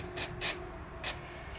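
Three short hissing bursts of chain cleaner sprayed onto a Yamaha MT-09 motorcycle chain, close up, with quiet pauses between them.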